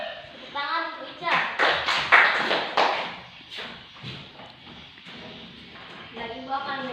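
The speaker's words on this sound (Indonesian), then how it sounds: "Tepuk tangan untuk Ica." Short, loose bursts of classroom hand-clapping from a small group of students, fairly close. Talk can be heard just before the claps and again as they die away.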